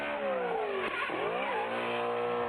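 A 1992 BMW M3 drift car's engine screams at high revs while its tires squeal loudly, the pitch dipping and climbing as it slides past.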